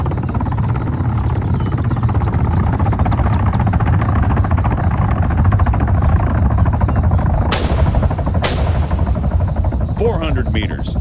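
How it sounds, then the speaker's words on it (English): A military helicopter in Arma 3 thrums continuously with a dense rotor pulse throughout, loud and close, broken by two sharp cracks and a voice near the end. "All right, first target. Helicopters."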